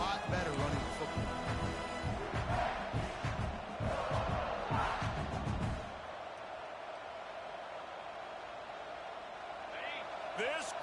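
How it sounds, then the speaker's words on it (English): Roaring crowd at a college football stadium during a USC game, a dense sustained roar for several seconds that drops to a lower murmur, with a commentator talking over it. "This crowd, full throat, splitting the eardrums and letting them know it's going to be a long day."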